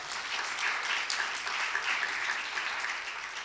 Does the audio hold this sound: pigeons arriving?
no